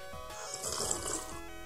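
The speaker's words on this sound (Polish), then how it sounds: "Ale najpierw łyczek wody." A person takes a sip of water up close, a soft, faint wet slurp and swallow set against quiet room noise.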